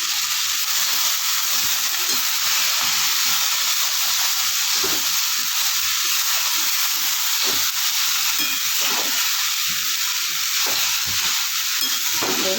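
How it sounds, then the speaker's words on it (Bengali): Susuni greens (shak) fry loudly in a pan, a dense, constant sizzle and hiss with occasional stirring scrapes, close up and with no voices. "এবার ঘন 5 মিনিটেও শুশুনিয়া শাক ভাজা হয়ে যাবে"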